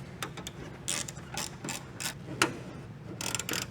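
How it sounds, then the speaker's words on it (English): A hand ratchet tightening a bolt on the fender of a Ford F150 Lariat pickup during a fender flare installation, quiet, rapid clicking strokes in uneven bursts close by. "I'm gonna go ahead and tighten it up."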